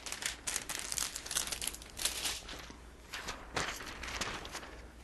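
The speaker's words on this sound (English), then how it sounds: "You peel it apart and discard the release liner." A plastic release liner is peeled away from a respirator lens cover, giving a series of close, crinkling, tearing crackles in uneven bursts, with no talking.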